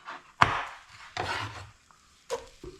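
A knife cuts through pepper on a wooden board, giving a few sharp, close chops with short scraping slides between them, alone and fairly quiet.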